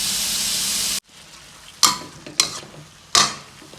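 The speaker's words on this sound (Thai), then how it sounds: "ผัดให้มันสุกสักห้าสิบเปอร์เซ็นต์นะคะ" Carrot noodles stir-fried in a pan give a loud burst of sizzling that cuts off abruptly, followed by three sharp, separate clanks and scrapes of a utensil against the pan.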